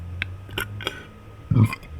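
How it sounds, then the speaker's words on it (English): A short, low burp comes through near the end, after several soft clicks and taps from handling cards during a Pokémon card game. "That was a nasty burp."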